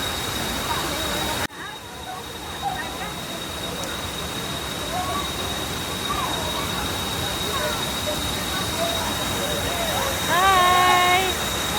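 Pinlac Falls in Laguna pours as a steady broadband roar of rushing water that runs throughout at close range, with faint voices and bird-like chirps rising briefly near the end.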